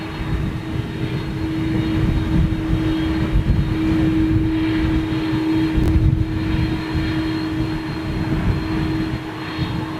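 A jet airliner at Toulouse airport gives a steady, loud engine roar that holds for the whole stretch with a sustained tonal hum, with no talk over it.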